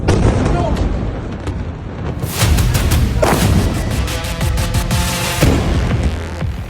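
Explosions from an Iranian missile attack on Haifa, Israel: several heavy, broadband booms and blasts hit in succession over a dense, rumbling background, with sharp bursts standing out roughly a second apart.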